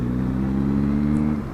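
A Yamaha XJ650 motorcycle engine idling with its throttle blipped, a steady close rumble that holds briefly and then drops away cleanly at the end rather than hanging.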